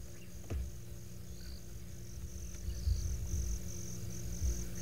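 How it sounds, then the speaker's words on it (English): Crickets chirp faintly at nightfall on a safari reserve, a thin, steady high trill over a low ambient rumble, with no voices. "Which at this stage consists largely of crickets."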